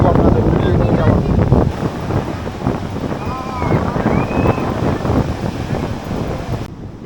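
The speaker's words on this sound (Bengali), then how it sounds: "আর হাওয়া তো কি বলবো আপনাদের, উড়িয়ে নিয়ে যাওয়ার।" Strong wind gusting by the sea on Puri beach at night, a steady roaring rush buffeting the microphone with surf churning beneath, brief faint tonal whistles partway through.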